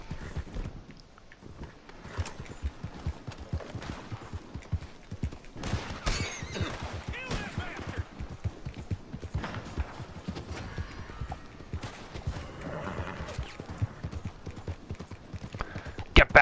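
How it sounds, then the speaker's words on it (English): Hooves of a horse-drawn oil wagon clip-clop steadily in Red Dead Redemption 2, with a neigh and a whinny partway through, plus wagon rattle and occasional distant shots in the background. "there goes my oil wagon"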